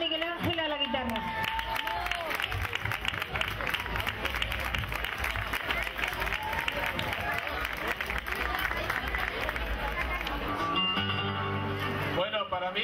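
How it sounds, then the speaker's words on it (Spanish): An audience at an outdoor charity verbena night in Churriana gives a long round of dense, steady applause. Near the end it thins out and a voice or music takes over. "Entonces, un fuerte aplauso a Jesús Jiménez y su hermano Miguel Ángel a"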